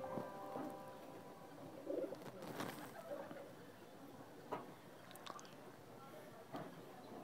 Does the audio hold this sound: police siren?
no